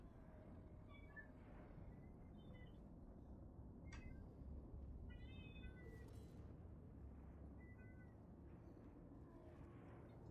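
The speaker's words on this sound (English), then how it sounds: "Meow. That's you, kitty. That's what you sound like." A cat meows several times, faint and somewhat distant: short rising-and-falling calls scattered over steady low background noise.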